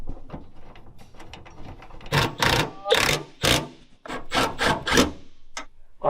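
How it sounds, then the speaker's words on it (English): Bolts on the mirror of a custom 4x4 off-road bus are tightened with a tool, giving close, scraping, ratcheting bursts in quick uneven succession. "Now I gotta get the sizes to tighten up these 2 bolts, and this mirror will be done."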